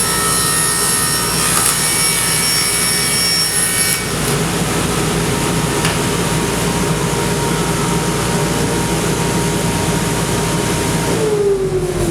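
A power saw cuts through wood in a studio workshop with a vacuum running, giving a loud continuous whine and roar that holds steady throughout and eases off at the end, with no talking.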